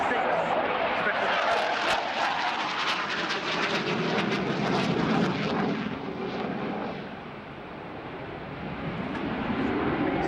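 A military jet flies past at Dunsfold aerodrome, its loud, steady roar filling the air with a broad rushing sound that dips slightly near the end before swelling again. Someone talks over it.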